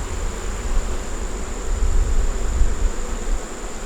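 Honey bees at a kept beehive make a dense, continuous low buzz with a faint steady high tone above it, close and unbroken, with no voices.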